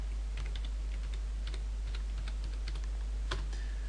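Keys clatter on a computer keyboard as a command is entered at a Visual Studio command prompt, with quick irregular taps over a low steady hum and no talking.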